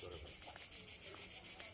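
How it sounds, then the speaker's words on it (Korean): Italian cicadas buzz in a steady, pulsing high drone in the hill town of Calcata, continuous and fairly faint, with a voice murmuring softly underneath. "이탈리아 매미, 요란하게, 예,"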